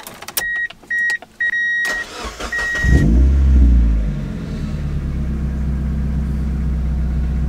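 A few short electronic beeps, then an NB Mazda Miata engine fires up and settles into a deep, loud, steady exhaust rumble close by through an ISR Performance exhaust.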